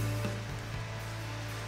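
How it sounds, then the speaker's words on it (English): Waterfall heard in the background at a nighttime backpacking camp at Kearsarge Lakes, a steady broadband rushing roar with no talk over it. "You can hear the waterfall in the background."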